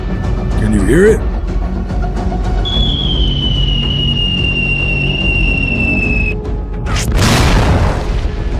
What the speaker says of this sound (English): They're starting to shell us!